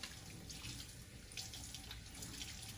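Steady rush of tap water from a restroom sink faucet while hands are rinsed, continuous and fairly close with small splashy variations throughout, no voices.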